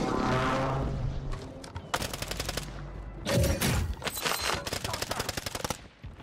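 Rapid gunfire from Call of Duty Warzone crackles in tight bursts, with an opening whoosh and then dense volleys that keep going to the end.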